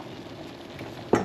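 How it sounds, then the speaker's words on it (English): Onions sizzle softly in a pan for a moment, then a short scrape or clatter stands out near the end. "With my onions sauteing into this."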